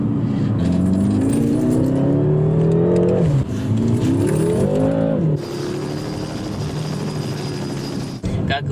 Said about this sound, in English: How about that rev matching?